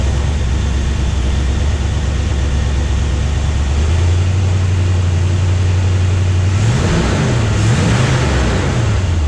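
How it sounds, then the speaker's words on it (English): A 1967 Corvette's 327, 300-horsepower V8 with side pipes idles loudly up close, then revs in two rising and falling bursts near the end, deep exhaust rumble throughout. "Engine sounds very good,"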